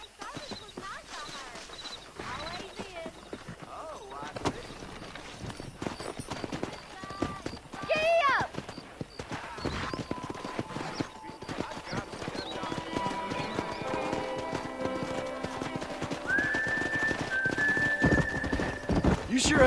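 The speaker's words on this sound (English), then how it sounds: "Let's see if we can't wrangle some horses." Horses in Red Dead Redemption clip-clop steadily at a trot and gallop, with sharp neighs and whinnies breaking in. Game dialogue and music sit beneath the hoofbeats during a horse-wrangling scene.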